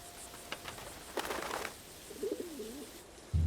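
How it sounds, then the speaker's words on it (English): Rock pigeons nesting in fortress-like high walls in Jordan, giving a soft low coo mid-clip after scattered light taps and flutter, fairly close with quiet outdoor ambience. "Plants bring insects, which provide food for rock pigeons."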